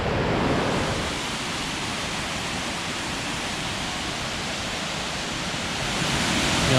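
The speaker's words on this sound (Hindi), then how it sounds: "आवाज़ तो आ रही होगी बहुत तेज़ पानी गिरने की." Baker's Falls in Sri Lanka, a waterfall inside a national park, gives off a dense, loud, unbroken roar of falling water, a steady broadband rush that fills the whole stretch without pause.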